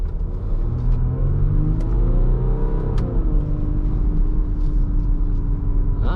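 A Jeep Grand Cherokee EcoDiesel with an Injen intake and CFT baffle delete pulling away from a stop, its diesel engine droning low and steady from inside the cabin as revs gradually climb, with no talking.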